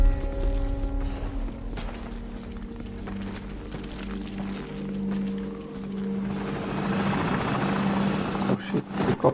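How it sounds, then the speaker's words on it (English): A helicopter in Call of Duty Modern Warfare, during the Pripyat ghost-town mission, gives a steady low rotor drone that holds throughout, with rushing wind-like noise swelling toward the end. "Helicopters."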